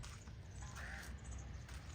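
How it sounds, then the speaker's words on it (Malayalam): A single faint, distant crow caw rises briefly above a soft, steady outdoor background. "ഒരു കാക്ക"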